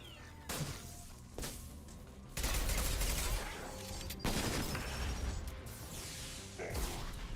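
Bursts of gunfire and crashing impacts in the Mass Effect Legendary Edition video game, heavy sustained volleys with sharp cracks layered over game sound.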